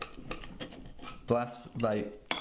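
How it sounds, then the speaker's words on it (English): A knife scrapes and clinks against a plate while slicing diagonally through a grilled cheese sandwich topped with runny-yolk eggs, a few short metallic scrapes close by with talk around them. "So you cut it diagonally"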